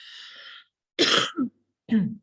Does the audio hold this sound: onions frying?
no